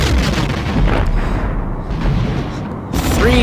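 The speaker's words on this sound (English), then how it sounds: "The Romulan warbird has been destroyed." A Romulan warbird blows apart in the Star Trek: The Next Generation – A Final Unity game, heard as a loud, rumbling explosion with layered booms that briefly thin out before another burst near the end.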